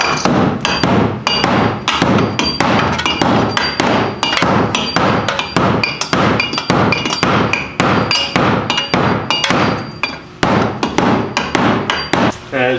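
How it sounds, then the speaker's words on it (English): Rapid, steady metallic hammering, dozens of sharp strikes from a hatchet in quick succession on a BMW E36's sheet-metal fender, loud and close with no talking. "couldn't find a hammer, so we're gonna use a hatchet for right now"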